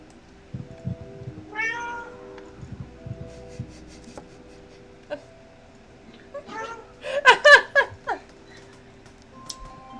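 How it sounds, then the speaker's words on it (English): Cats meow at intervals against a quiet background. A few soft mews come early, then a louder cluster of sharp, rising meows follows near the end, with talking mixed in. "I'm enjoying the amount of obnoxious cats today"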